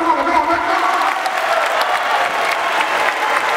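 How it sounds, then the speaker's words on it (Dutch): An audience at the Giga Game Festival claps in a sustained, dense round of applause with a few faint voices mixed in, loud and even throughout. "Kunnen we alvast een beetje klappen om ze een beetje het gevoel te geven van welkom op het Giga Game Festival"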